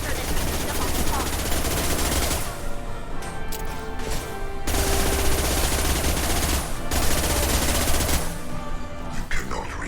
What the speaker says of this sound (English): Shoot the tubes! Watch right!